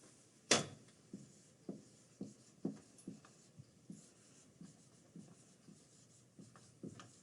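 A number is written by hand, heard as a sharp initial tap followed by a series of short, evenly spaced pen or pencil strokes, close and quiet, with no talking.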